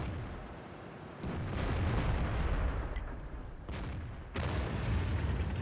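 Heavy tank cannons booming in World of Tanks, with a few deep blasts over a constant rumbling battle din, the loudest shots landing near the start and late on.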